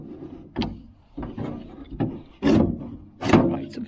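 Classic Mini window regulator on a 1997 Rover Mini Cooper MPI being wound by hand inside the door, giving a series of scraping, rubbing mechanical strokes in an uneven rhythm, close by with no voices.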